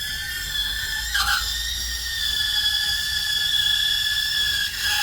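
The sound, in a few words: coffee machine steam wand heating milk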